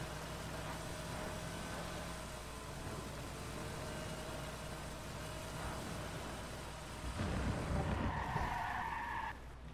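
Tires skid with a sustained squeal and engine roar in the Watch Dogs driving game, ending in a louder burst of impact noise near the end.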